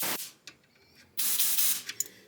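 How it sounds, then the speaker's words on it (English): Compressed air blasts through Volvo 240 transmission cooler lines in loud hissing bursts, one short spurt at the start and then a longer sustained blast in the second half, with quieter rattling in between. "if you've got access to a compressor, I like to blow out the transcooler bits"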